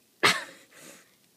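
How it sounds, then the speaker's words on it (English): One sharp, forceful cough bursts out up close, followed by a softer, breathy trailing sound; no speech. "Coughing at the audience."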